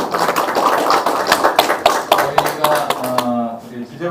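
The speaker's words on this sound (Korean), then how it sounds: "발표해 주신 세 분한테 다시 한번 박수를 좀 부탁드립니다" Audience applause for three presenters at a regional development strategy forum in Gwangju's Nam-gu, dense clapping that thins out toward the end as a voice begins speaking over it.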